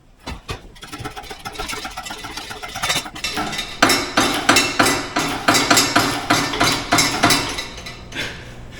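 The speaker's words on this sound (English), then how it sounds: "It's the turbo mount flex pipe that's allowing this thing to beat on the subframe. That's what you're hearing." A car engine runs while a loose turbo flex pipe knocks against the subframe, a repeated metallic knocking in a steady rhythm, growing louder and more regular through the middle before easing off.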